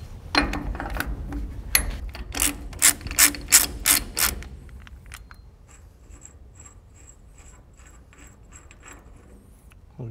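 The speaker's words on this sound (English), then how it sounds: "we can take this outer nut off" A ratchet spins off the outer jam nut of a trailer wheel hub, with loud, rapid clicking bursts at close range that then fade into softer, sparser clicks.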